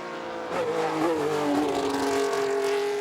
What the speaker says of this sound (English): Three times a winner in 1974, this car, in the hands of Niki Lauda and Claire Regazzoni.